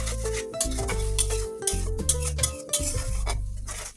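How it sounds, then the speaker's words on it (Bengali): Ground spices with salt sizzle in a pan for a Bengali lau shak dish with prawns and potatoes, while a spoon scrapes and stirs in quick, repeated strokes, close and fairly loud, with no talk. "এরপর মশলাটাকে খুব ভালোভাবে কষিয়ে নিতে হবে।"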